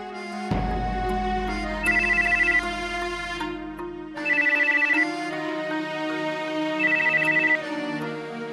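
A phone ringtone trills in three repeated bursts over a steady electronic musical tone, clear and close, with no talking.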